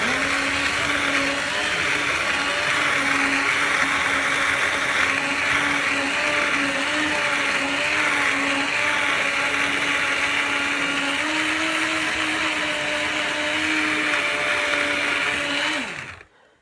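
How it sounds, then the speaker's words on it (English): A Tesco brand stick blender purées vegetables for a beef stew, a loud, steady motor whine holding close and continuous for about sixteen seconds before cutting off abruptly. "It's just a Tesco brand stick blender. So I'm going to put that in and I'm going to blend all the veg."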